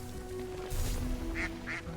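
Ducks in the video game Dungeons of Hinterberg give a couple of short nasal quacks amid steady game music and ambience, fairly faint and brief, with no talking.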